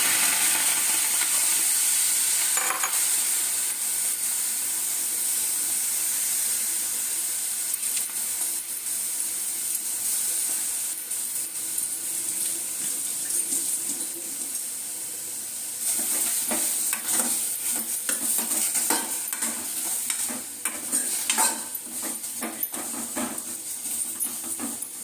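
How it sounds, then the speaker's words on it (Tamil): Tomatoes sauté in a hot pan with a continuous sizzle and frequent scraping stirs, steady for the whole stretch, close up and without talk. "நல்லா வதங்கணும்."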